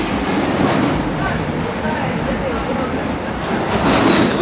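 A passenger train on the Belgrade to Bar railway rumbles along with steady rolling noise and faint rhythmic clatter, heard from inside under people talking.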